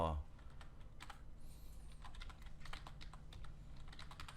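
Fingers type on a computer keyboard in a quiet room, a soft, quick patter of key clicks at close range with brief pauses, over a low background hum.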